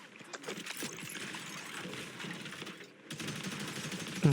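Rapid bursts of gunfire fill a Marvel Rivals match, quiet and busy with dense rattling shots and a short pause near the end, no speech over it.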